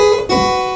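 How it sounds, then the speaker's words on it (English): A music box piece, The Queen of Hearts (La Reine des Coeurs), played with strict ornamentation: a short run of bright, sustained tones that shift to a new chord partway through, loud and close, with no talking. "If I were to play this exactly according to the rules of ornamentation, it would sound like this,"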